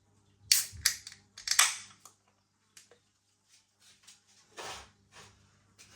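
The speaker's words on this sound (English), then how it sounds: "Let's get it out into a glass and see what we get." A can of Camden Town Eazy Hazy IPA opened and poured into a glass: sharp clicks and a hissing crack, then a brief fizzing burst and softer sporadic pouring and glugging with quiet gaps between.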